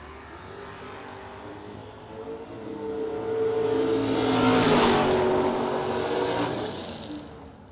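A Buick drag race car roars down the strip at a no-delay drag racing event, its engine swelling louder as it passes and then fading.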